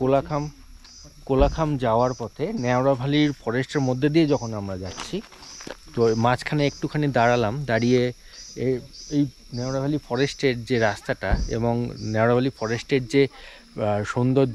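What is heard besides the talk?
crickets chirping in Neora Valley forest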